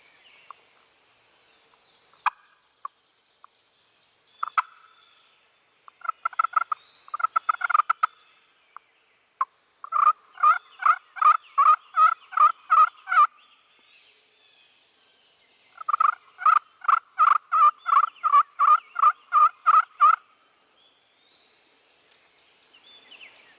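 Wild turkeys calling in a spring woodland tree line: scattered clucks and putts, then two long runs of rhythmic yelping notes, moderately distant and alone with no talk.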